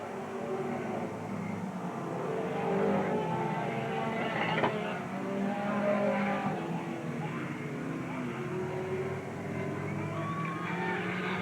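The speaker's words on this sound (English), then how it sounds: "A main event cars back on the track and racing." Race cars circling the track during the main event at Willamette Speedway in 1987, a steady distant engine roar that rises and falls slightly as the pack passes, with no talk heard.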